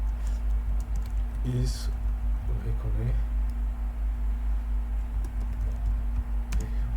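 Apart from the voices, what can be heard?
typing on a computer keyboard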